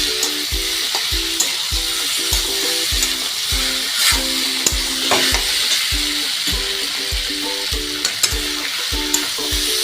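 Taro stolons frying with shrimp in a pan, a loud continuous sizzle punctuated by regular rhythmic spatula scrapes roughly twice a second, close up with no speech.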